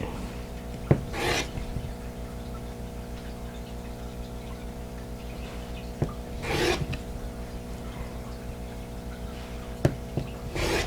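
Fabric pieces for a Christmas basket appliqué quilt block are being cut, giving three brief rasping strokes spaced several seconds apart over a steady tonal background.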